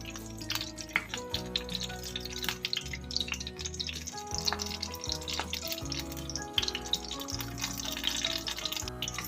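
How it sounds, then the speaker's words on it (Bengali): Brinjal (eggplant) slices frying in oil in a pan for a masala baingan dish, giving a steady crackling sizzle with scattered pops and light clatter, close and moderately quiet, with no talking. "এবার আমি অন্য বেগুনগুলো ছেড়ে দিচ্ছি"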